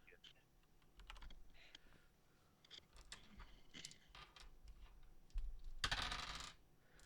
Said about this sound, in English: that sounds like a lot of dice being rolled